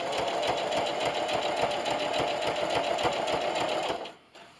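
A sewing machine runs steadily as it stitches binding onto a quilt-as-you-go table runner, a loud continuous mechanical whir with a rapid needle rhythm that stops abruptly near the end.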